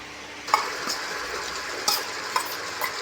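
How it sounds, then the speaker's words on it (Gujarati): Chopped onion and tomato go into a pan with garlic chili paste and salt, followed by several sharp spoon clinks and scrapes of stirring over a low steady sizzle. "હવે ડુંગળીનું ટામેટાનું જે કટિંગ કર્યું છે એ નાખવાનું છે."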